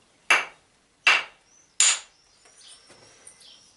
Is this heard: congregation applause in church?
no